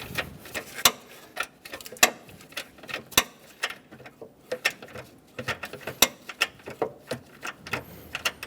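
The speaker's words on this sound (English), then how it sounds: "I have a 1/4-inch ratchet tucked up for the bottom bolt. We're going to get that loose." A 1/4-inch ratchet clicks away at the bottom bolt of an upper transmission mount on a 2003-2007 Honda Accord 3.0L V6, producing irregular bursts of sharp, close metallic ticks with brief pauses between strokes and no talking.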